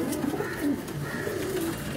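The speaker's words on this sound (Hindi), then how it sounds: "अब ये देखना कितने खूबसूरत डॉक्टर कबूतर हैं, ऐसे चमक रहे हैं" Pigeons kept on a rooftop coo close by in soft, rolling, repeated calls, a low throaty burble that continues throughout with faint background noise.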